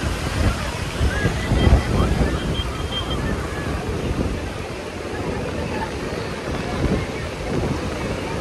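Sea waves wash onto Murudeshwara Beach in Karnataka with a steady roar, and wind buffets the microphone throughout. No distinct voices stand out.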